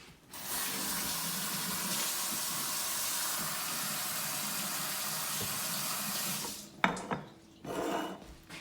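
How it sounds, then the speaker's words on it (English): Tap water runs steadily into a kitchen sink during hand washing, a close hissing splash that stops abruptly near the end, followed by a few handling clatters. "before I have to kind of wash my hands."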